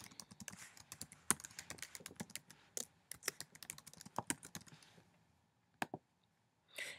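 Quiet, close keyboard typing: a rapid irregular run of light key clicks with short pauses, a few sharper taps, then a final burst after a brief gap.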